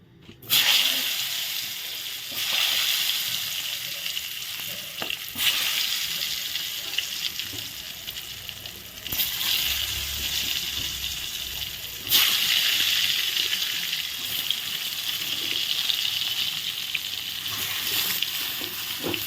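Eggplant pieces drop into hot oil in a pan for a spicy begun jhal and fry with a loud, dense hiss. Fresh bursts of sizzling flare up as more pieces go in, close and steady, with no voices.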